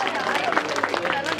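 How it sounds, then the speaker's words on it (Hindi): Clapping and crowd noise from an audience at a Hindi poetry recital, a steady dense patter of applause with murmuring voices, continuous and fairly loud throughout. "एक बार तालियां बजा दो भाई"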